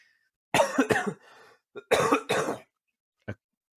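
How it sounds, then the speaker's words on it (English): Two short bursts of coughing close by, a pair of harsh coughs, a pause, then another pair, followed by a faint single throat sound. "I need to go by there to get this cough fixed"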